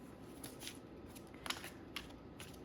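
A deck of tarot cards being shuffled by hand: soft, close riffling and sliding bursts in an uneven rhythm, quiet, with no talk.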